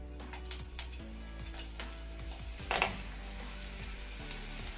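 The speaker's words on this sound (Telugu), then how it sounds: "ఆయిల్ బాగా వేడి చేసుకున్న తర్వాత మీడియం ఫ్లేమ్లో వేయించుకోవాలి." Vamaku pakodi frying in hot oil over a medium flame, a quiet steady sizzle with soft crackles and a few spoon clicks against the pan, under a low background hum, with no talking.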